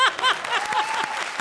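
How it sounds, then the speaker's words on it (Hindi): Audience applause rising on a Hindi TV comedy show stage, a dense steady patter of clapping with some voices and laughter mixed in throughout the short burst. "एक बार जोरदार तालियां तापसी और देवयानंदु के लिए।"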